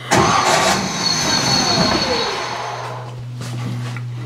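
A 1955 Chevy Nomad's starter grinds and cranks its engine loudly up close, with a whirring drone that slows and fades into a lower steady hum near the end.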